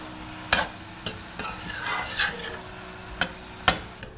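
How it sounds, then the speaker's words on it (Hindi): Onions browning in a pan on a low flame, with a soft steady sizzle broken by several sharp clicks and scrapes of a spoon stirring against the pan. "लो फ्लेम में प्याज कार्मलाइज होते होते अपनी मिठास छोड़ते हैं"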